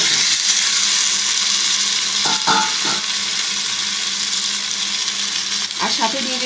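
Chopped tomatoes go into spice masala frying in a pan for tomato chutney, with a steady loud sizzle throughout and a few brief clattering stirs and drops near the start and end.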